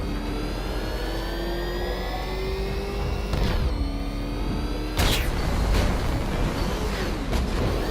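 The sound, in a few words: car engine revving in Batman Arkham Knight video game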